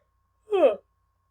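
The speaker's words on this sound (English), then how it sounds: "that yawn snuck up out of nowhere" A single short yawn with a voiced, falling tone, close and clear, lasting under half a second in otherwise quiet surroundings.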